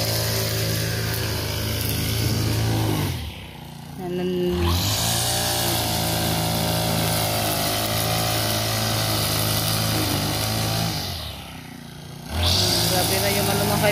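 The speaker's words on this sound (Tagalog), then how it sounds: "Nagsimula na si Junjun sa pag-grass cutter." Grass cutter running outdoors through overgrown grass, a steady buzzing engine drone that drops briefly twice as the throttle eases, with people talking over it.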